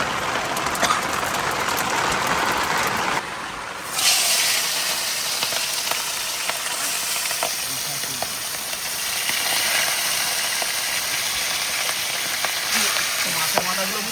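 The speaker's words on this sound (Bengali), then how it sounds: "এবার দেবো কিন্তু ফোড়ন।" Spices for dal tempering (phoron) sizzle and crackle steadily in hot oil, a loud continuous fry with sharp pops throughout, while rain falls outside.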